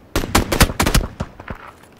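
Rapid burst of gunfire in the video game PUBG, a loud close string of about ten sharp shots in quick succession that trails off into a couple of scattered final reports.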